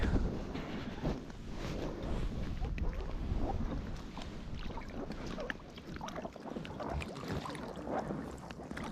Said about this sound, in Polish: Wiatr strasznie przeszkadza, strasznie wieje